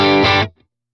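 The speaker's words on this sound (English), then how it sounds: "here's the preset with all the effects off. I am on the neck pickup." Electric guitar played clean through the neck pickup with effects off, a single bright chord ringing about half a second before cutting off into silence.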